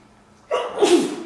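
A single close, sharp sneeze bursts out after a short quiet lead-in, loud and breathy, with no talking around it.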